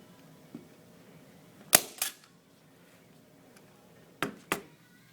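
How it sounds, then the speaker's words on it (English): Staple gun driving staples through fabric on an outdoor seat cushion: four sharp snapping shots in two quick pairs, close and crisp against a quiet background. "I've removed the nails and stapled it all the way around, approximately an inch away."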